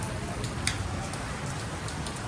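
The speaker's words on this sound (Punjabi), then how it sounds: "ਲੋ ਬਈ ਪੂਰਾ ਮੀਂਹ ਆ ਗਿਆ" Heavy rain pours down in a constant, close wash of patter with scattered sharper drop hits, and no voices.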